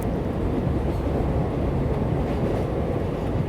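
A train rolls along the rails through the night, a steady low rumbling roar heard from inside the carriage, continuous and even throughout, with no voices.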